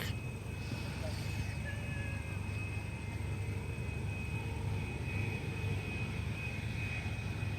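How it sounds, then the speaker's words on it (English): A Bombardier Challenger 350 business jet arrives at Cleveland Hopkins International Airport, inbound from Buffalo, heard as a steady, moderately distant jet roar with a faint high whine that holds throughout. "Bombardier Challenger 350 inbound from Buffalo"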